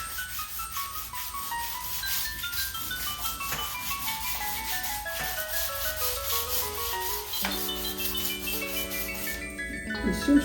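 Sandpaper rubs the black finish off a guitar neck in steady, close back-and-forth scratching strokes, with a faint tonal ringing underneath and a brief knock near the end.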